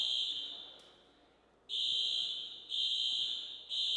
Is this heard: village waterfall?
no